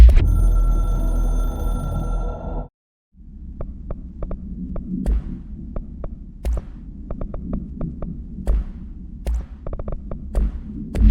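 The hotline telephone in the video game Control gives a steady droning, harmonic ring that cuts off abruptly, followed by a low throbbing hum dotted with sparse clicks and pulses, with no voices.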